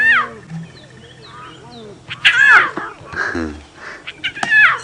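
Pied crow calls drift in around a dawn safari drive in the bush, harsh caws mixed with other bird chatter and faint human voices, with louder bursts near the end of the clip.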